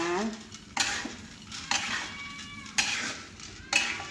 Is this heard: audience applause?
no